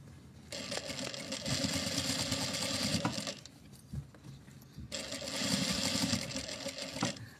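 A sewing machine stitches bias binding onto a fabric pouch in two steady whirring runs of about three seconds each, separated by a brief pause with small handling clicks, close and clear.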